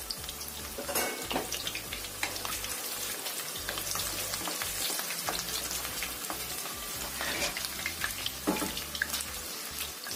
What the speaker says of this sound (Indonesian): Kemudian kita goreng bawang putih dan juga bawang merah yang sudah kita iris tadi.